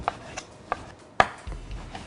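Several sharp knife chops cut through raw chicken on a cutting board at an irregular pace, one noticeably louder strike in the middle, with a soft thud afterward.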